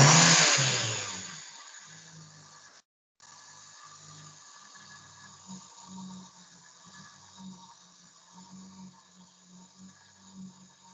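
A car engine in an automotive diagnostic setting is revved as the accelerator is pressed, opening with a loud surge that fades, then settling into a low, uneven running rumble with small repeated bursts.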